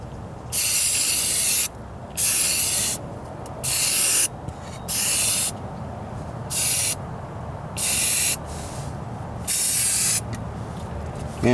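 A spray can lays a primer tack coat on a welded floor pan patch on a Ford Ranger in loud, evenly spaced hissing bursts, about eight of them, each lasting roughly a second with short pauses between.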